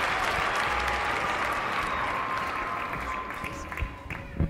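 An audience at a children's television award ceremony claps steadily for several seconds, a dense even round of applause that thins slightly toward the end.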